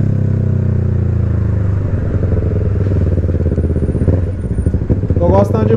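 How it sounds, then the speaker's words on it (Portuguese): A motorcycle riding along a road in Bragança Paulista, a loud, steady low engine drone with rhythmic pulsing and wind rush close to the rider, while a voice talks over it. "Tá fazendo uns rolês da hora de moto."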